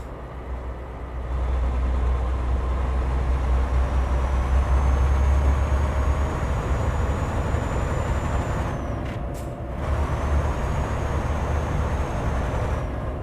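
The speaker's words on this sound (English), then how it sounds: "I think that's a totally different sounding engine." Scania truck with an open-pipe exhaust in Euro Truck Simulator 2, a deep, steady engine drone with a whistling tone on top that breaks off briefly in the middle and then resumes.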